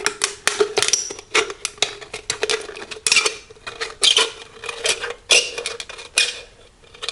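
A can opener cuts around a tin can in a rapid, irregular series of sharp metallic clicks and scrapes, fairly close and alone with no talk.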